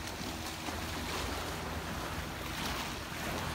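Surf on a Boracay beach on a breezy day: a dense, continuous wash of waves with steady wind noise and no speech, loud and unbroken throughout.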